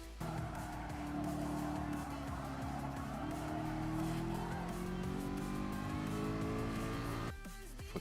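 A race car engine in GT Sport at Willow Springs Big Willow holds a steady, rising drone as it accelerates for several seconds, with faint tire scrub before the engine note cuts off abruptly near the end.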